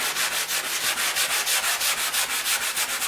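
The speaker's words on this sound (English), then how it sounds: "I'm just going to give this a quick light sanding." Light hand sanding of a small Dollar Tree wooden piece, close and scratchy, with quick regular back-and-forth strokes repeating in a steady rhythm for a few seconds.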